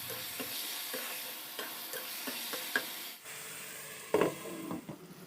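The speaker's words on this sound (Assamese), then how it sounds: "এতিয়া বিলাহীখিনি গলি যোৱালৈকে ভালদৰে ভাজিব লাগিব।" Chopped tomatoes fry and sizzle in a pan for spicy pasta, with steady close frying hiss and repeated clacks of a spoon stirring, one louder scrape near the end; no talk.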